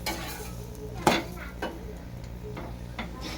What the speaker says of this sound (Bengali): এই উল্টা পাল্টে ভেজে নিতে হবে